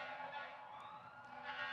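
An emergency vehicle siren wails outside, steady and fairly distant, under a constant hum of background noise.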